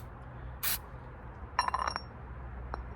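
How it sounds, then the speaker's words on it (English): A spray bottle of degreaser is pumped while cleaning the covers of a 2011 Yamaha F60 outboard, giving a brief hiss and then a rattly burst of spray, with small clinks nearby. "You're gonna grab your degreaser and just give it a little spray."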